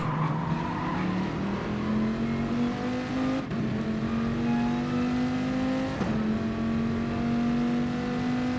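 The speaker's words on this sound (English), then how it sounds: "Love the sound of that Dodge Viper." Dodge Viper race car in the video game GT Sport, its engine holding a steady high drone that climbs in pitch between two sharp gear changes, loud and continuous with tire noise beneath.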